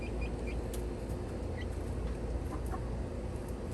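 Chickens cluck softly in short bursts over a steady outdoor hum, the calls faint and somewhat distant.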